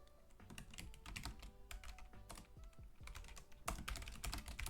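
Rapid typing on a computer keyboard, close and fairly quiet, with uneven bursts of crisp key clicks and a few louder keystrokes near the end.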